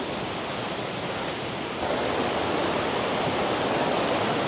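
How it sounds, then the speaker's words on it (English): Steady, loud roar of rushing water at the second stage of a seven-stage waterfall, a continuous broadband wash that swells slightly midway, with no talk over it. "we're approaching the 2nd level or 2nd stage of the waterfall"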